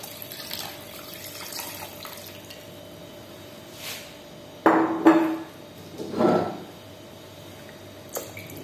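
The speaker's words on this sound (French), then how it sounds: "on met beaucoup d'eau de façon à couvrir tout ce qui se trouve dans la marmite" Water poured from a tap into a soup pot holding bones and a peeled onion, a faint running trickle and a few louder splashing bursts and clanks near the middle, with no talking.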